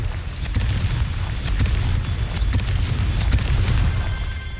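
An explosive Confringo spell cast in the video game Hogwarts Legacy rolls out as a loud, sustained low rumble punctuated by repeated sharp cracks and bursts.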